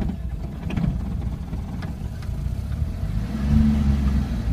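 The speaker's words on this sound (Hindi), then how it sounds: "हमने गाड़ी को दूसरे गियर में लगा लिया" A Suzuki Bolan (Carry Daba) van's engine drones inside the cabin after a shift into second gear, a low steady rumble that swells louder toward the end.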